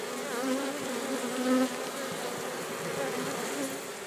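Many honey bees buzz continuously nearby, a droning hum with shifting pitches as individual insects fly close and away.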